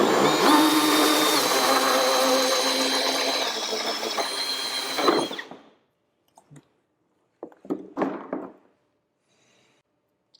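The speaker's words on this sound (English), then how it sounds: "I'll just get the bit set by going clockwise. Once that breaks through, then I'll go in reverse." A power drill with a hole bit cuts through a bath and shower surround panel, a loud continuous whirring grind for about five seconds that stops abruptly, followed by a few brief handling clicks and knocks.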